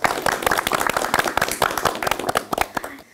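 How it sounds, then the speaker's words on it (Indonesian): A small audience claps hands together in a quick burst of sharp, uneven claps, fairly close, running steadily for about three seconds before thinning out. "Boleh tepuk tangan dulu?"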